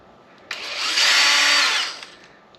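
A power drill backs screws out of a Traxxas Maxx RC truck during an upgrade, one steady close whir of about a second and a half that ramps up, holds and winds down, with no talking.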